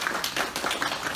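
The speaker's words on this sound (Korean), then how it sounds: "이분을 위해서 박수를 한번 드립니다." Applause from an audience at a CBMC members' forum meeting, a dense patter of many hands clapping steadily and fairly faint, with no voices over it.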